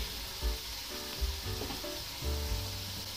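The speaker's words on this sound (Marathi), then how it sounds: "पाहू शकता तुपामध्ये छान आपला बटाटा परतून घेतलेला आहे।" Potato cubes fry in ghee in a pan, a steady close sizzle with soft crackles and a few stirring touches, fairly quiet and continuous, with no voices.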